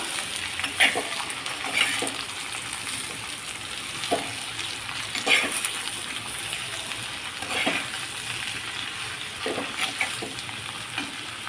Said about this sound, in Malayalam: ചെറു ചൂടിൽ വഴറ്റിയെടുക്കാം. നന്നായി ഇളക്കി കൊടുക്കാം.